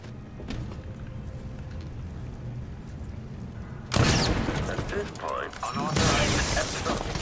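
Loud gunfire and explosive blasts erupt in the stealth action video game Dishonored 2, starting abruptly after a quieter stretch of ambience, with a player talking over the action.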